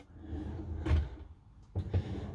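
A white drawer in a Karmann Mobil Dexter 625 campervan slides open and then shuts with two soft knocks, close and fairly quiet, with no one talking.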